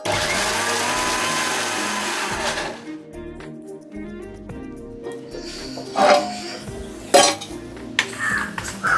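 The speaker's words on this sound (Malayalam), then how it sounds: "എല്ലാം കൂടി അരക്കാട്ടാ." A mixer grinder whirs loudly, blending cumin with sour homemade curd for nearly three seconds, then cuts off, leaving faint clinks and knocks of the jar and utensils nearby.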